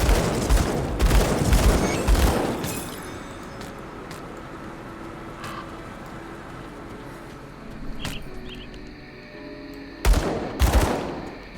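Gunfire in the Grim Dawn game, a rapid crackling burst of shots at the start that fades into a quiet ambient stretch before another short loud volley near the end.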